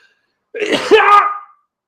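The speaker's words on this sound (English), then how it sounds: "I'm about to sneeze." One loud, abrupt sneeze, close up, with a sharp burst followed by a short breathy tail, alone in otherwise silent surroundings.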